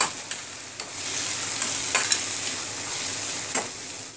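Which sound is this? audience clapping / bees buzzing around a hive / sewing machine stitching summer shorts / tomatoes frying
tomatoes frying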